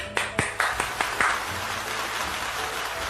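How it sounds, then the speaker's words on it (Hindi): An audience at a Hindi poetry recital claps to welcome a poet: a handful of sharp, separate claps in the first second or so, which quickly thin out into quiet room tone. "तो आइए जोरदार तालियों के साथ स्वागत करते हैं"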